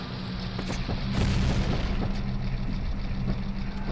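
A bomb explodes in Ocarina of Time inside a Dodongo dungeon, a dull booming blast that swells and rumbles under a steady game soundtrack, with no voice over it.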